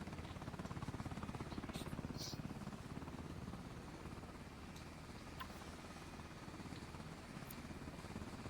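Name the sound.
helicopter circling, from the video game BRM5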